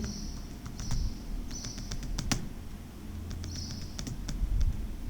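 Keystrokes tapping on a computer keyboard while entering a word into a spreadsheet cell, a few short clicks and bursts scattered over a low room hum, with faint chirps in the background.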